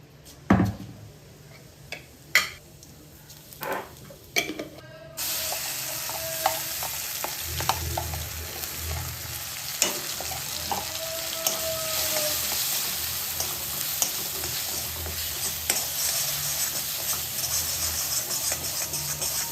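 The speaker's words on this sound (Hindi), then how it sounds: "पहले मैंने थोड़ा सा ऑयल डाल के इसमें तड़का लगाया है और उसके बाद जो मैंने दाल का पेस्ट बनाया था वो डाल दिया है" Lentil paste roasting in oil in a pan after a garlic tempering, with a steady loud sizzle and frying hiss and scraping spoon strokes throughout, following several sharp clinks and knocks at the start.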